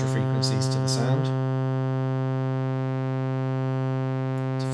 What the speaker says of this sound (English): Harmonic distortion is the last one. And this literally just adds arbitrary extra frequencies to the sound